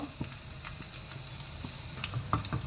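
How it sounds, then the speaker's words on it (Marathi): Crushed garlic cloves and asafoetida frying in oil for a banana and dal curry give a soft, steady sizzle with scattered small pops and crackles, heard close and alone. "एक 5 बोयो लसणीच्यो दडावन घालच्यो. इल्लोसो हिंगाचो पिठो घालचो."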